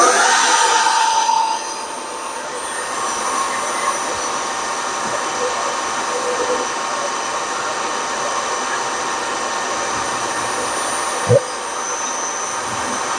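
A milling machine cuts a metal valve chest cover with a hand-cranked feed, giving a continuous loud whirring drone with a high whine throughout and one sharp knock near the end.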